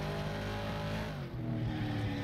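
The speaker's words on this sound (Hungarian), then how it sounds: "Nagyon jól megy most az autó." A turbocharged car in the FlatOut racing game roars at steady high revs, loud and continuous, with a brief dip in engine pitch midway before it climbs again.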